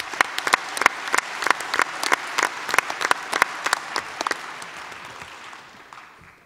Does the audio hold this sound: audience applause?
yes